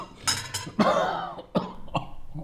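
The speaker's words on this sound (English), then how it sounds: "We started to eat and then Dad started to cough." A man coughing at a dinner table, several harsh, raspy coughs in uneven bursts, close and loud with short gasping pauses between them.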